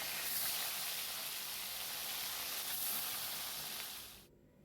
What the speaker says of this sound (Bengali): এই মাছগুলো ভেজে তুলে নিলাম, বাকি মাছগুলো আমি পরপর ভেজে নেব।